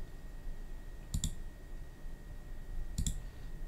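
A computer mouse clicking twice, each a sharp double-tick of the button, about two seconds apart over a faint steady hum.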